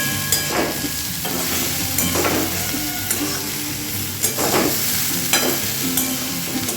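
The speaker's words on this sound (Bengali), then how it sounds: "ধনে পাতাকে একটু ভেজে নিয়ে" Coriander leaves frying with tomato in a hot pan, a loud close sizzle broken by repeated scrapes and clanks of a spatula stirring against the metal.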